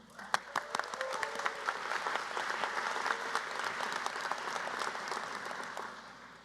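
A crowd at an engineering master's hooding ceremony applauds steadily for several seconds, dense clapping at a constant level before it tapers off at the end.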